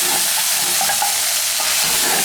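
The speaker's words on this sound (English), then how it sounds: "That sound means that meat is now fried, properly fried." Meat sizzling and crackling in a hot pan, a continuous loud hiss up close with small pops scattered through it.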